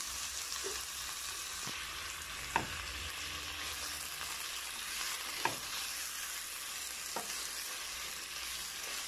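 Ground meat sizzles steadily in a hot pan for a sautéed chayote dish, with a constant frying hiss broken by a few sharp scrapes and knocks as it is stirred.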